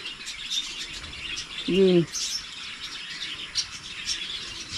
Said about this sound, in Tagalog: Ang uwak, umapit.